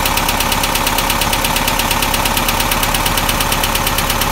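A 1965 International Scout 800 engine idling steadily with a loud, even rumble and a faint rhythmic knock, continuous throughout with no voices.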